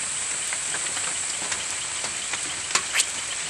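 Light drizzle falling steadily around a forest camp shelter, a soft continuous patter with a few nearby drips and knocks, no talking.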